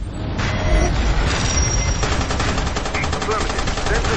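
Dense automatic gunfire from the online shooter video game MAG, loud rapid bursts and overlapping shots forming a continuous battle din with some booming impacts.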